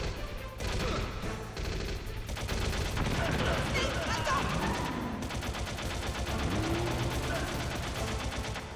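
Rapid machine gun fire in the video game Metal Gear Solid, dense sustained bursts with crashes over game music, someone talking throughout.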